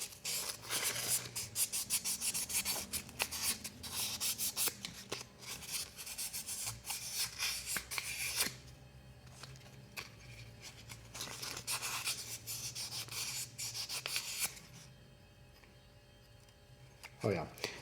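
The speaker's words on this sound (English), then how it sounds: "I'm just gonna hit with 1000 grit sandpaper. Just hit the frame just a little bit." A marranzano frame being rubbed with 1000 grit sandpaper, a close, dry scratchy sanding in short repeated strokes with pauses between bursts, while someone talks over parts of it.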